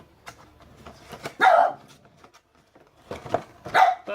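A dog barks in two loud bursts indoors during a box unboxing, with a short yip between and quieter background sounds around it.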